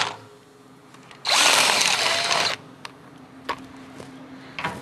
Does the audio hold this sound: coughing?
no